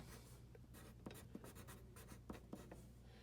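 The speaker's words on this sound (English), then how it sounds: "So let's write the notes of the parameters. I'm going to write that out here." Pen or pencil writing notes on paper, close and quiet, with steady scratchy strokes and a few sharper taps as letters are formed, heard alone.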